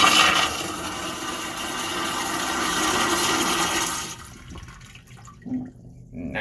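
The rear toilet in a 2011 Newell motorcoach flushes with a loud rushing swirl of water for several seconds, then drops to quiet trickles and gurgles as the bowl refills.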